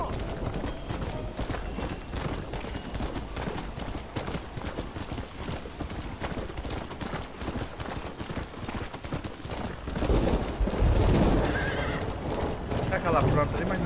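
Horse hooves pound steadily in Red Dead Redemption, a tired horse clip-clopping continuously beneath game ambience, with a neigh rising near the end; no voices.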